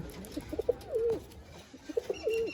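A Giribaz pigeon coos twice nearby, each call a short run of soft notes ending in a drawn-out, rising-falling coo, in a quiet room.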